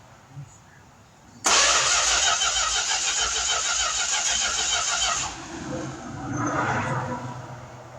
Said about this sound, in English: Okay, crank it over.